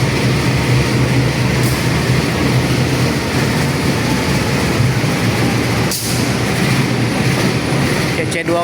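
The Ambarawa Express, an Indonesian economy-class train, rumbles steadily at a station platform with a constant low engine drone and brief hissing bursts, while people talk nearby.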